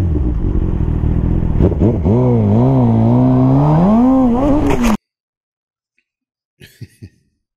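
A Suzuki GSXR 1000 motorcycle engine roars loudly, its pitch wavering up and down as it rides, then cuts off abruptly into silence, followed by a couple of faint distant thuds.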